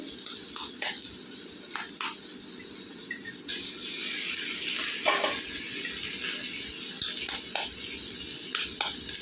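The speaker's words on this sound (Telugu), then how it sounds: "నేను గుడ్లు ముందు నూనెలో వేపనండి" Oil sizzles and spits steadily in a pan as eggs fry for vegetable fried rice, with a continuous crackling hiss broken by a few sharper pops, close and fairly loud with no talking.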